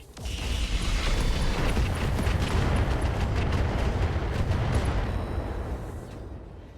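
Mech weapons firing at an Archer mech in the RogueTech battle game: a sustained, loud rumbling barrage of overlapping blasts and mechanical roar lasting several seconds, then fading.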